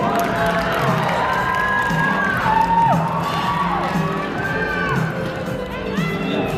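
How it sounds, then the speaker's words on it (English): A crowd of children at a school assembly cheers and shouts for the dancers, excited high voices and whoops rising and falling together, with only scattered clapping underneath. "Let's give all of our dancers a round of applause."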